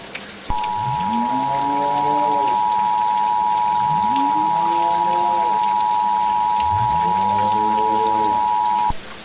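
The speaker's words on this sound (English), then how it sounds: "It is starting to rain blood right now." Steady rain patters throughout a fictional emergency alert broadcast about blood rain, beneath a long unbroken alert tone and three rising, wailing synthetic swoops.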